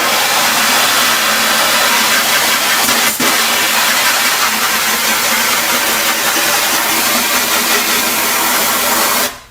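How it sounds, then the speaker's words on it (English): A garden hose sprays water onto a screen printing screen coated in emulsion, a loud, steady hiss of water that continues unbroken, then cuts off abruptly at the end. "So now what if I use the garden hose?"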